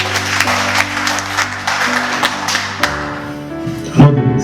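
Congregation applauding during a French-language church service, clapping spread across the hall over sustained organ or keyboard chords, with a louder thump near the end.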